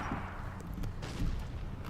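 Cannons fire in a Napoleon: Total War multiplayer battle, heavy booms and rumbling blasts rolling over one another in a dense, continuous wash of battlefield noise.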